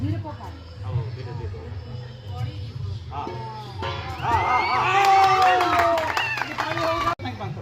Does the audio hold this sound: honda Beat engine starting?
no